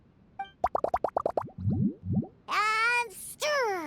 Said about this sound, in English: I'm gonna add all the remaining ingredients. Lizard tails, fish scales, mucus, and the sun condensate.